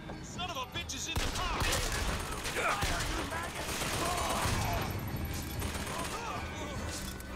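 Rapid gunfire bursts crackle in a first-person shooter game, repeated volleys layered over a busy in-game soundscape with other effects throughout.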